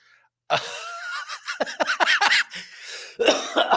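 A burst of several sharp, close coughs in quick succession, followed by a short pause and another rough cough.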